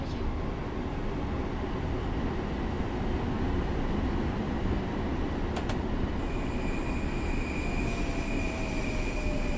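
A modded train rumbles on steadily in the Train Simulator game in snowy conditions, close and loud, with faint wheel squeals and a thin high whine over the continuous roar.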